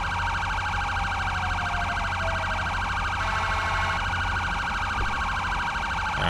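A police unit's siren in GTA 5 wails continuously and loudly, a steady electronic warble with a second siren layered over it and no pauses.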